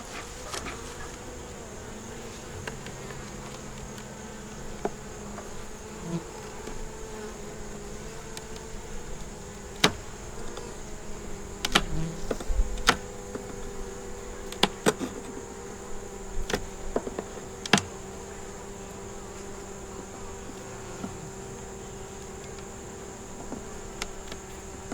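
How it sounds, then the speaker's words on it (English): Honey bees buzzing around an open hive box with brood and larvae, a steady dense hum with individual bees zipping close past now and then, continuous and fairly near with no talking. "The good bees."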